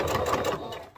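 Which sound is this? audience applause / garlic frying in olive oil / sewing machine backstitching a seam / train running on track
sewing machine backstitching a seam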